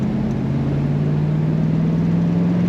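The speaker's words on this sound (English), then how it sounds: "You can hear that rumble out the tailpipe." A 1968 Chevrolet Corvette convertible rumbles from its tailpipe in a steady, continuous low exhaust drone that holds without letup and builds slightly toward the end.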